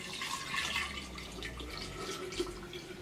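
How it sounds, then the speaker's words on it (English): Green juice poured into a cup at the end of a juicing recipe, a steady liquid trickle and splash running for a few seconds with no one speaking. "It's gonna be poured into this cup."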